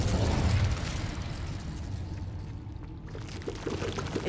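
The Confringo fire-blast spell in Hogwarts Legacy erupts in a loud rushing explosion, strongest at the start, then decaying into a sustained crackling roar with a brief dip before flaring again.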